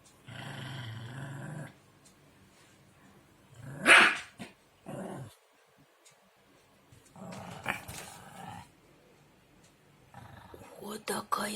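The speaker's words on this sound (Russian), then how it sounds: "такой злой пес" A small Chihuahua growls and barks in short bursts, close by, with quiet gaps and some low murmuring or whispered voices between the outbursts.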